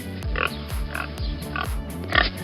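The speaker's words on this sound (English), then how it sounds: "It's a pig." A pig grunts and oinks in a steady rhythm, four or five loud, close snorts spaced about half a second apart, with no talk over them.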